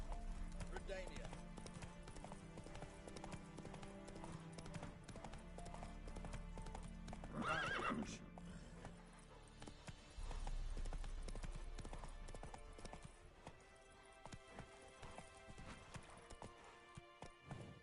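In The Witcher 3, the horse gallops with rapid rhythmic hoof clops and a brief whinny, heard under game ambience and a voice.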